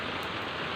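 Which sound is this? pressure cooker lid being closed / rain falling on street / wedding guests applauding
rain falling on street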